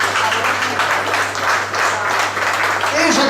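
Audience applause at a restaurant award ceremony, dense steady clapping from a crowd filling the room, with a low hum beneath and voices mixed in.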